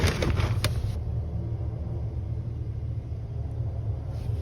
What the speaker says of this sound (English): Now I hear really fast driving.